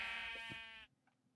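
Sheep bleating in Minecraft, a single loud wavering bleat lasting most of a second and cutting off abruptly, followed by quiet low background sound.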